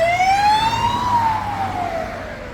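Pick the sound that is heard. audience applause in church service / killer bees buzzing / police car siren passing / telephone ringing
police car siren passing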